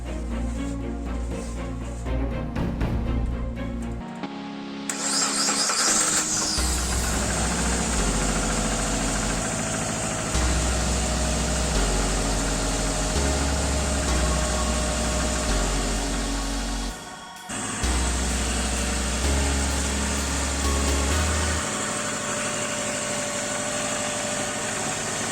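A Subaru EJ20 boxer engine fires up after an engine-bay wash and settles into a steady, close idle with a low rumbling throb that holds for most of the stretch.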